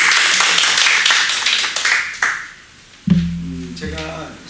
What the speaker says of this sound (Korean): 박수 치셔도 됩니다.